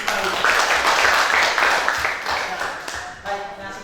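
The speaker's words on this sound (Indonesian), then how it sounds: "Silakan tepuk tangan dulu." Students in a classroom clap together in a brief burst of applause that fades out over a few seconds, with a voice speaking near the end.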